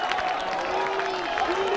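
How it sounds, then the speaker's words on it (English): Schoolboy rugby crowd at a Selborne versus Grey College match clapping players off the field, a steady wash of applause and cheering from many spectators, with a voice talking over it throughout. "the Selborne boys giving their boys a big clap off the field there"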